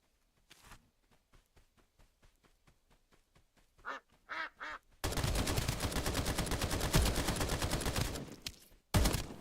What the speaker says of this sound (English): Amazing shooting.